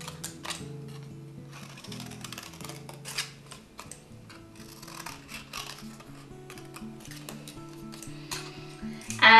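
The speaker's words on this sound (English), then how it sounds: "So we're just gonna cut these out using the scissors." Repeated crisp snips of scissors cutting through card, a steady run of short clicks over soft background music.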